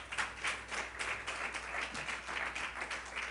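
Congregation applause during a church service, a dense, even wash of clapping with a steady rhythm that carries on at moderate, distant-sounding volume throughout.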